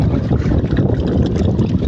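Steady, loud gale wind roaring across open sea in the Philippines amid rough waves, with a dense low rumble and buffeting, no voices.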